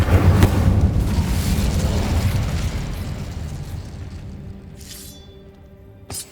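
An Incendio fire spell in Hogwarts Legacy on PS5 bursts with a loud, booming whoosh of flame, roaring at first and then fading over several seconds, ending with a sharp crackle and a brief chime.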